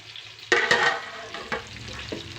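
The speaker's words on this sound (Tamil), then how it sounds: "மீன் பொரிஞ்சிட்ருக்கு" Fish frying gently on low heat in a home kitchen for lunch, a soft steady sizzle with a few louder crackling bursts and occasional stirring clinks close by.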